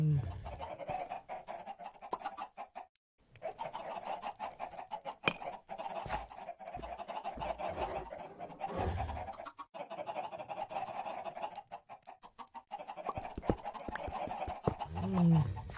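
Chickens in the Minecraft video game cluck in repeated short bursts, a steady run of moderate clucking with brief pauses between calls, heard alone without talk.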